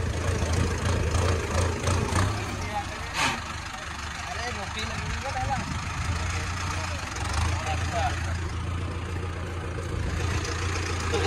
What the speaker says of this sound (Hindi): देखिए आज हम ट्रैक्टर की सवारी कर रहे हैं